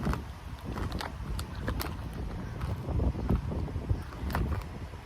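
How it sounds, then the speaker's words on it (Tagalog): Gusty outdoor wind buffets the microphone in irregular rumbling bursts near a boba milk tea shop in Orlando, Florida, with no voices present. "Mahangin."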